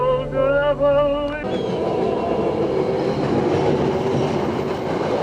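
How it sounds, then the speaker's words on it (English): A commuter train with new engines runs past, opening with a tonal horn-like hum and then a loud, continuous rumble of rolling wheels and rail noise that fills the rest of the stretch. "this is how the commuter trains run down here, Jer. With the new engines."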